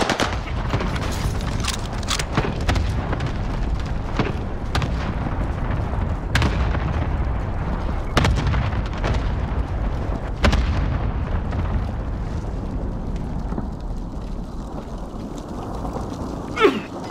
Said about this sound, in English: Airstrike on my target!